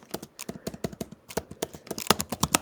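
Rapid, irregular clacking of keys on a computer keyboard, close and fairly loud, in uneven bursts with short pauses between runs of keystrokes.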